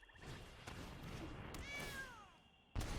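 A cat gives a single drawn-out meow with a falling pitch, fairly faint against a low background hum, cut off by a brief thud at the end.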